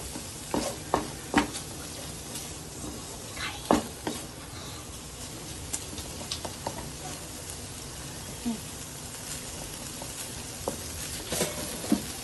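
Paneer bhurji fries in a pan with a low continuous sizzle, punctuated by repeated spoon scrapes and taps against the pan at irregular intervals.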